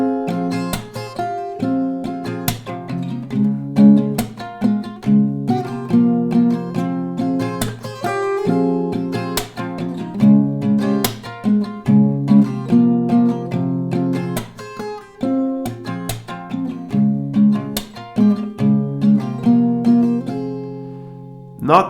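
An acoustic guitar plays a strummed accompaniment to a song with melody notes picked out between the strokes, in a steady rhythmic pattern, close and clear with no talking.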